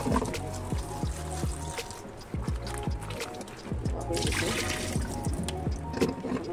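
Cut pointed gourd (potol) pieces being rinsed in water, with steady trickling and splashing, sharp clinks of pieces against a bowl, and close, continuous handling noise throughout.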